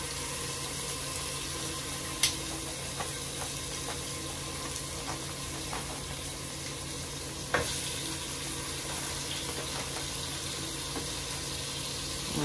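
Oxtail pieces browning in hot oil in a pot for curry oxtail, a steady loud sizzle and frying hiss throughout with a couple of sharp pops and spatters, no voices.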